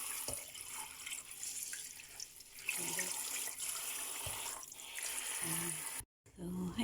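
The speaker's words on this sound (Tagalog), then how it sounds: "So, hugasan natin ang saluyot." Saluyot (jute) leaves are rinsed under a running kitchen tap, a steady close splashing and hiss of water with handling noises, briefly cutting out near the end before resuming.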